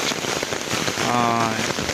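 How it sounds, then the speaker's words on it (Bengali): Heavy monsoon rain pours down on an island road, a dense, steady hiss of drops striking surfaces close by, with a faint tonal hum briefly rising underneath partway through. "তো প্রচুর বৃষ্টি এত পরিমাণ বৃষ্টি"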